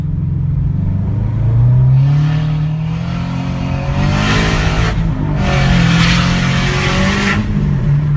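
A Toyota 86, Scion FR-S or Subaru BRZ with a JDL UEL turbo kit revs hard as it accelerates through gears, with rushing bursts of air as the blow-off valve dumps between shifts; loud and close.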